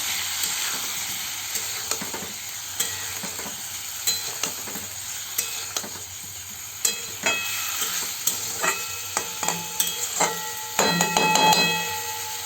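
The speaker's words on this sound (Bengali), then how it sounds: "এবার পনিরগুলো দিয়ে দেবো, ভেজে রাখা পনির। নেড়ে নেব।" Pre-fried paneer being stirred in a hot cooking pan, with a steady sizzle broken by irregular metallic scrapes and knocks of the spoon against the pan, close and clear, and no talking.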